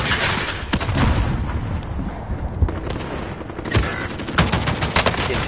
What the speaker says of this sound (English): I'm actually getting shot at too.